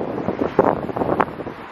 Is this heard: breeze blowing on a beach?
yes